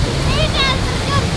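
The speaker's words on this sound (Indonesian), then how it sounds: "Ini air terjun tertinggi di Mesir." A tall waterfall in the Egyptian desert gives off a steady, dense roar of rushing water, loud and close, while a voice speaks over it.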